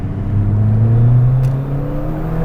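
Ford Fiesta ST fitted with a Milltek exhaust pulls hard at night on a dual carriageway, its engine note climbing steadily with a loud, continuous rising drone heard from inside with the windows down.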